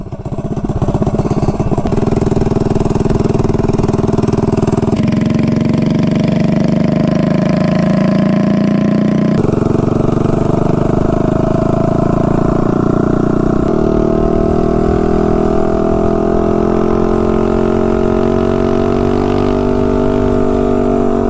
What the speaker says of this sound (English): Let me do a top speed run real quick.